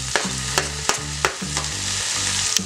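Tomatoes go into a pan where onions and green chillies fry in oil, making a close, steady sizzle with rhythmic stirring scrapes about every half second, and no one talks.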